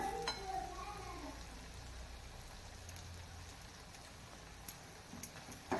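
Onion-coconut paste and spices sautéing in hot oil for a green pea usal, a steady soft sizzle with faint scraping and a few sharper clicks near the end.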